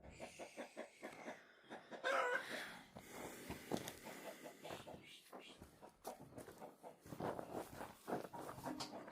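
Chickens cluck and squawk around a farm chicken coop, close and busy with overlapping calls and scratching, while people talk intermittently over the flock.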